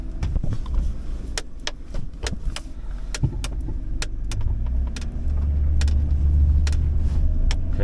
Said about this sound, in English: Okay, so we'll put it in 4 high for now to make sure that works.